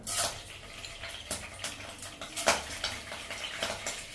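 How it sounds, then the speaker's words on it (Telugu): Chana dal drops into hot oil in a pan, giving a soft crackling sizzle with light scattered clinks and stirring sounds, fairly quiet and close. "శనగపప్పు వేసుకుందాం."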